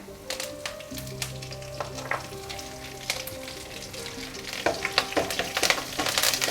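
Curry leaves hit hot oil that holds lentils and dried red chillies for garlic pepper rice. Sharp crackling pops and a steady sizzle burst out close by, with faint steady musical tones underneath.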